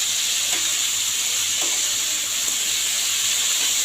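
Mango chutney with salt being stirred in a hot pan, a steady close sizzle and hiss with a couple of faint scrapes of the spatula, no talking.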